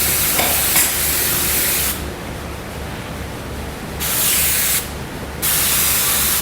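Spray gun applying clear coat finish over a distressed sample board, steady broadband hissing bursts starting and stopping three times, close and loud with no talking.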